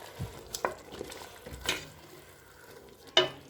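Vegetable noodles with Maggi seasoning stir-fried in a pan, a light sizzle broken by a few distinct spatula clacks and scrapes as the noodles are tossed.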